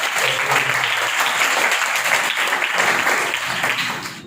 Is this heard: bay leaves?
no